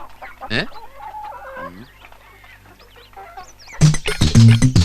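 Hens cluck softly at intervals in a quiet space, then a burst of louder, busier clucking and squawking closes it out.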